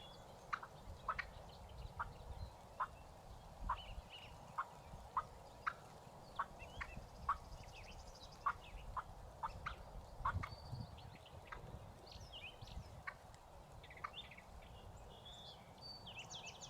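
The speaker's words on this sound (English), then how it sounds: "Turkeys are such weird birds." Wild turkeys gobbling in Wisconsin woods during the spring hunting season, a long series of repeated rattling gobbles at a steady pace, faint and distant over quiet outdoor background, with no talking.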